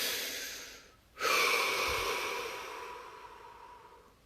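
One deep breath is drawn in sharply after a brief quiet, then released slowly as a long, fading exhale, close and alone.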